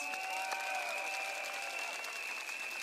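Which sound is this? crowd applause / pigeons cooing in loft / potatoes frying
crowd applause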